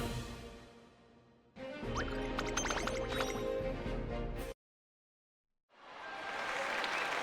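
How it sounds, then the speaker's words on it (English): A video game crowd at Tokyo Racecourse applauds loudly after a horse race for a few seconds, the clapping cuts off abruptly into silence, then swells back in. "Tokyo Racecourse rumbles with the sound of thunderous applause after the race."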